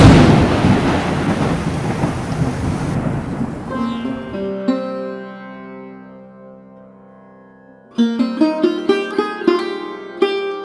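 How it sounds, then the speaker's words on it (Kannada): Heavy rain pours down at Kottiyoor temple in Kerala, a loud dense roar for the first few seconds that then drops away, followed by tonal ringing sounds rather than thunder, with no one talking. "ಮಳೆ ಸ್ಟಾರ್ಟ್ ಆಯ್ತು. ಅಯ್ಯೋ ತುಂಬಾ ಮಳೆ ಗುರು, ಮಳೆ ಫುಲ್ ಮಳೆ"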